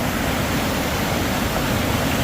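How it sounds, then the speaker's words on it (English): Rushing stream water pours in a powerful, dense broadband roar, loud and steady throughout, heard alone with no voices. "water coming from everywhere"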